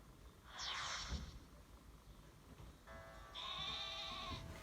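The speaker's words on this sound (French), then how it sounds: "Oh, le petit mouton, il est mignon." Sheep bleats from the video game Pokémon Sword, one short bleat near the start followed later by a longer, brighter tonal cry over a steady game background.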